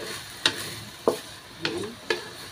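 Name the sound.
frying marinated food in a pan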